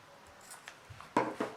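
Sharp fabric scissors snipping a denim jeans pocket corner, a few quiet small clicks and then two crisp closer cuts near the end, with no talking.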